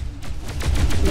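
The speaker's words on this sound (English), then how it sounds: "Plasma gun." Plasma gun firing in the space shooter Descent: Underground, a quick string of loud, close bursts that builds in strength over about a second.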